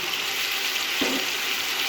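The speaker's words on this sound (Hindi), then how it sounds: "और इसको मज़ीद 2 से 3 मिनट तक के लिए फ्राई कर लूँगी।" Chicken and tomatoes fry in a pan for a chicken vegetable pulao, giving a steady, close, bright sizzle with a soft stirring scrape partway through.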